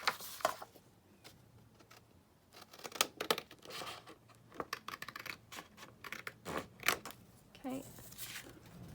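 Scissors cut out a bumpy card with glued-on pieces, making irregular close snips and papery scratches with crinkling, quiet, with soft talking between the cuts.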